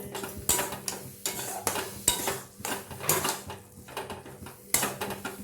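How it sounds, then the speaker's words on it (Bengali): Soybean chop filling stirred in a pan with a metal spoon, giving repeated clanking scrapes against the pan at an uneven rhythm over a faint sizzle, close and fairly loud. "এবার ভালো করে এভাবে নাড়তে থাকবো"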